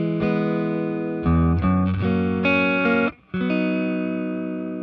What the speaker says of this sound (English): I'm also running through the bright channel to help fight the muddiness that could potentially come from playing a guitar through a bass amp